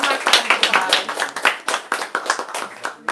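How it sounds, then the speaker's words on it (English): A small audience at a YA Pride writers' panel claps for the writers. The claps are distinct and fairly sparse and fade by about three seconds, close and moderately loud. "One last round of applause"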